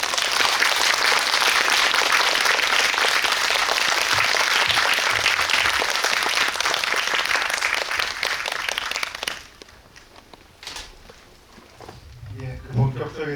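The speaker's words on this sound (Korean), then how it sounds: "큰 박수로 맞이하겠습니다" Loud, dense applause from a cinema audience welcoming a film director to the stage at a guest-visit screening of Kingmaker, continuous for about nine seconds before fading into scattered claps and a murmuring crowd.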